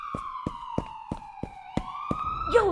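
An ambulance siren wails in a steady falling tone, broken by a series of regular sharp knocks, and ends in a brief noisy burst.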